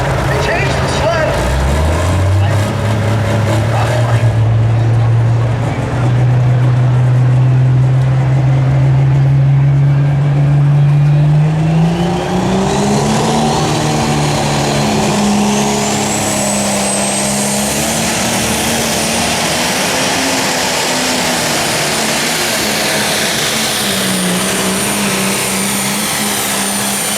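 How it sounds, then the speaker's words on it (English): Newly built pulling tractor roaring through a full pass down the sled track at the Midwest Summer Nationals tractor and truck pull in Freeport, Illinois, its engine note climbing steadily and holding loud and continuous throughout. "Oh, what a nice pass for Mike Boyd with the newly built Green Street tractor"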